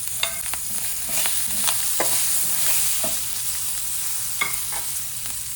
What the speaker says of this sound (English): We'll let the peanuts and the dals get fried.